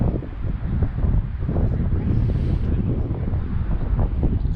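Wind blowing outdoors at a classic car show, roaring steadily against the microphone as a constant low rumble with gusty fluctuations and no clear talking.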